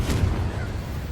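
The Confringo fire blast spell from Hogwarts Legacy bursts in a brief, loud, dense rumbling whoosh that fills the short moment without a break.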